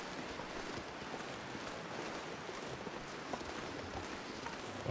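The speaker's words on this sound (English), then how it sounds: "Windy, but it's windy the right way." Steady wind gusting across an open outdoor landscape in the survival video game The Long Dark, a continuous broadband rush at moderate level with no talk and only slight swells.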